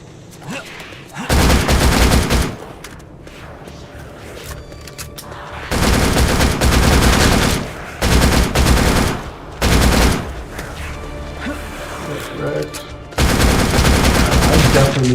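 Automatic gunfire in the zombie-hunting video game Darkest Days erupts in several loud, sustained bursts, separated by quieter gaps of background game noise.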